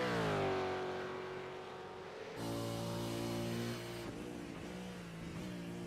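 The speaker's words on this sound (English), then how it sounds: "Let's listen to his engines." A V8 Supercars race car engine at a 2024 championship round, loud and close, revving high then dropping pitch through smooth gear changes, with clear harmonic engine tones and no talk.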